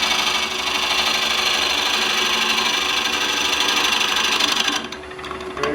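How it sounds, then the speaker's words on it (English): A wooden bowl's interior is cut on a lathe with a bowl gouge that bounces against the wood. A loud, continuous rough scraping and whirring holds steady close up, then drops away near the end. "There you can hear that one bouncing."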